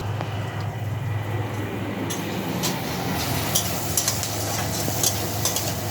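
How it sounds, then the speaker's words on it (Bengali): Chopped onion fries steadily in a pan on a gas stove, a continuous close sizzle punctuated by the scrape and clack of a spatula stirring, with a low steady hum beneath. "পেঁয়াজটা ভাজা হয়ে গেছে"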